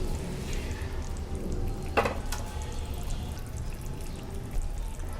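Fish sautés in a pan with a steady, moderate sizzle up close. One sharp clink of a utensil stands out partway through, and nobody speaks.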